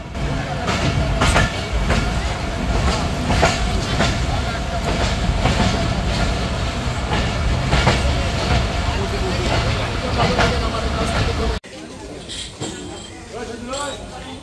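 The Titumir Express train rumbles steadily with rhythmic wheel clatter and a low mechanical drone, loud and close, pulling into Panchbibi railway station, then the noise drops abruptly near the end as it quiets.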